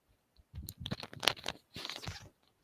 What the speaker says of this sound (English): I hear you shuffling.